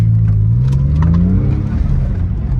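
A Porsche engine with a smoking fault pulls through the gears while driving, a loud close droning hum that rises in pitch as it accelerates, then settles.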